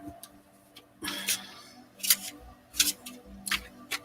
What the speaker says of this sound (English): Mercer was clicking their pen constantly, and that's driving me batty.